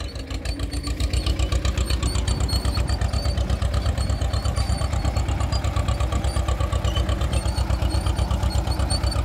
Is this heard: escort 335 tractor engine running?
yes